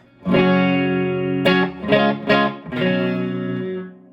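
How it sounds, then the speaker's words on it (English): Electric guitar through a Luna 15W prototype amp with reverb at a moderate live level, one sustained chord ringing out followed by several quick re-struck chords that decay into a reverb tail, close and loud. "I'm gonna back that reverb down just to a level where I'd use it live"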